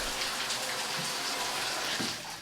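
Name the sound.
water running from a tap turned by knob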